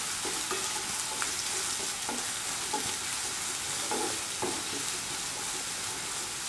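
Onions frying in oil left from frying fish, sizzling steadily with a bright hiss and occasional crackles and spatters as they are stirred, close and continuous without talk.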